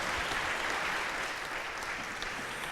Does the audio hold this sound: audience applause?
yes